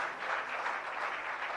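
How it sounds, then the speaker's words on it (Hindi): Faint, steady applause from a group, heard at a distance with no pauses. "जोरदार तालियां।"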